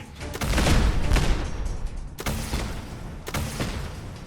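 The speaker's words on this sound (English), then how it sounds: "Every time I pop out, it's shooting missiles at me." Missiles explode in combat in Fallout 4, a rumbling roll of blasts followed by two sharp booming impacts, loud and close with no talk over them.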